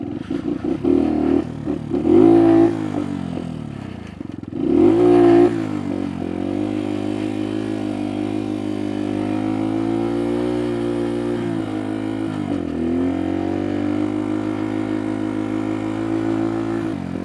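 A Kuba Race 125 motorcycle engine with an idling fault idles and revs on a beach, rising twice sharply before settling into a steady, droning hum; fairly loud and close, no talking.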